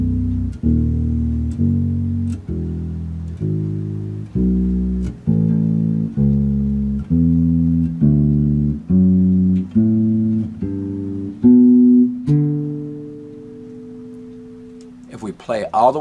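Five-string electric bass played note by note in order, a steady ascending run of clean plucked tones, close and distinct, ending on a longer sustained note that fades out.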